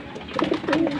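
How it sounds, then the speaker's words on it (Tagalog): Racing pigeons in a loft give soft, close cooing calls, several overlapping low throaty coos across a second of steady birdy murmur. "So, Ang pupogi ng ibon ni Boseo no."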